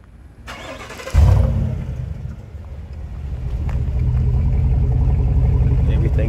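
A 2022 GMC Sierra 1500 Denali pickup truck engine cranks and catches, then settles into a steady low idling rumble close by, running continuously after the start.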